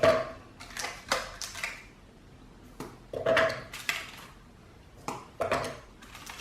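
Tim Tam chocolate biscuits being broken up for a no-bake cheesecake base, a series of sharp crisp cracks and clattering knocks against a bowl, coming in irregular bursts with short pauses between, close and fairly loud with no talking.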